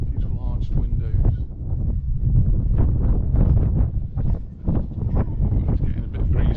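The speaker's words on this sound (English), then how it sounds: "it's getting a bit breezy here" Outdoor breeze in Sherborne, Dorset buffets the microphone with a low, continuous rumbling roar that rises and falls in gusts throughout.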